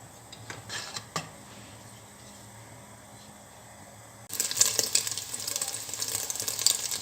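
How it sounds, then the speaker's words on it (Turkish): Lamb fat renders and begins to sizzle in a cooking pot, faint scattered crackles at first, then a sudden, louder bright frying hiss that keeps spitting and popping. "Evet iç yağlarım erimeye başladı"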